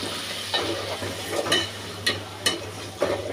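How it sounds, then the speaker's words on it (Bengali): Soybean oil goes into a cooking pot for cow tripe, giving a soft, steady sizzle close by, with a handful of sharp metallic clicks from utensils spaced through the few seconds. "এখানে হাঁড়ির মধ্যে আমি সয়াবিন তেল দিয়ে দিচ্ছি"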